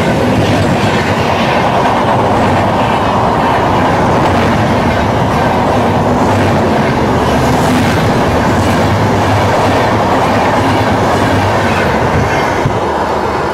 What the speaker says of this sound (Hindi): सद्भावना एक्सप्रेस ट्रेन जा रही है